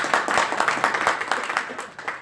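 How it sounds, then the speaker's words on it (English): Conference audience at a fintech startup weekend opening ceremony in Geneva clapping loudly, a dense rapid patter of many hands with slight swells, fairly close and sustained briefly before easing. "please tell me how fun it was by clapping extremely loud"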